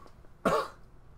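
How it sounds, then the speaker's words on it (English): A single short cough from a man, close and fairly loud, rising abruptly and fading within a fraction of a second over quiet background. "I apologize for coughing there."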